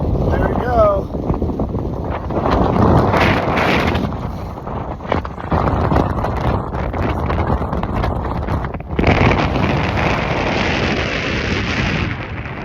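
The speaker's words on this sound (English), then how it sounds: "It was super windy." Strong wind in Patagonia buffeting the microphone outdoors, a loud continuous roaring rush with heavy gusts and rumble throughout, no voices.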